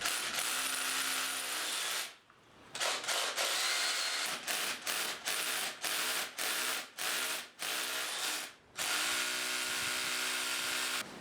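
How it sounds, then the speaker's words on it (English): Short bursts of an STS power drill boring a hole for a back plate, several on-off pulses with a steady whine between brief pauses, close and loud with no talking. "I'm now going to drill the correct size hole using this STS drill"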